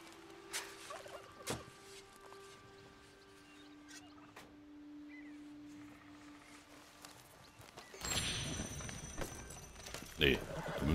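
A turkey gobbles in Red Dead Redemption 2 Online, with short bursts over outdoor ambience, hoof clops nearby, and people talking throughout; the scene grows noisier and busier toward the end.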